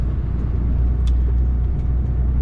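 A container truck pulls away on a road near Gdynia, its engine a steady, close low rumble that holds evenly throughout with no talking.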